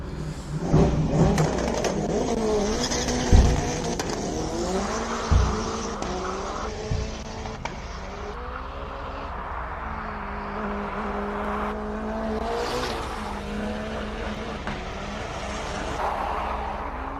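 A race car climbing the Simola hillclimb course, engine note rising and falling over about seventeen seconds with sharp bursts and a sustained whine, fairly loud and close.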